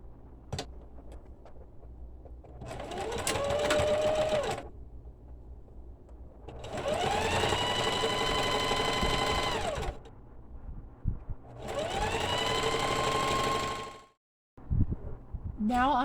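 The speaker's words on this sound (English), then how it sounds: "Now I am stitching up the side seams so that the front is now attached to the backs." A sewing machine stitching the side seams of a 1950s style dress apron runs in three long bursts of steady whirring, each rising to speed and stopping, with short quiet gaps between and close, loud motor hum.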